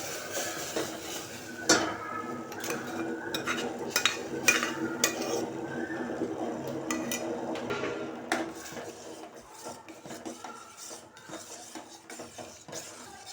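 A spoon scrapes and clinks around a pot of moong dal lentils in repeated stirring strokes, with soft, wet bubbling underneath, growing quieter toward the end.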